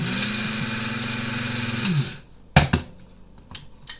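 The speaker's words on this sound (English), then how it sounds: "wheat crackers, maybe many as you can fit in here, and grind them into the mix" A food processor grinds low-salt Triscuit wheat crackers into powder for a chicken coating mix, a steady loud motor whir with rattling for about two seconds before it stops, followed by a few sharp clicks and knocks in near silence.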